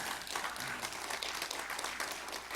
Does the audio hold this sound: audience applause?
yes